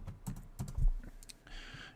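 A URL is typed on a computer keyboard, producing a quick, close run of soft clicking keystrokes that trails into faint hiss, with no talking.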